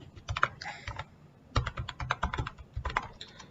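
JavaScript code typed on a computer keyboard in close, crisp bursts of rapid keystrokes, with a short pause before a second flurry of clicking.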